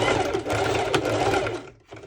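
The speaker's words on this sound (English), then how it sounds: "I will be doing a small straight stitch over" A domestic sewing machine runs a small straight stitch on a ruffled underwire top, whirring continuously at close range with a brief pause near the end.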